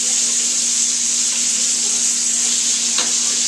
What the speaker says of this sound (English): Let the butter melt and just keep basting your steak.